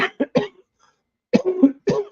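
Someone coughs repeatedly up close, with a quick burst of three sharp coughs, a brief silence, then another rough run of hacking coughs.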